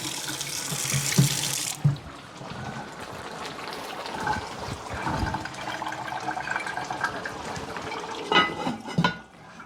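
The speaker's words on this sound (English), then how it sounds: "Give my hand a little wash." Hands are washed under a running kitchen tap, water splashing and gushing into the sink in uneven bursts, close and moderately loud, with a brief surge at the start and another near the end.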